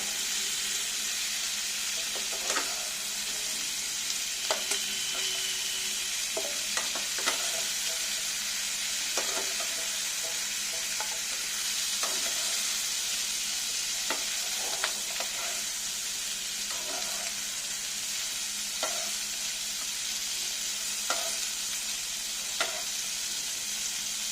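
Chicken pieces fry in an oil-filled pan in a home kitchen with a steady, moderate sizzle. Scattered light clicks and stirring taps break in throughout, and no one speaks.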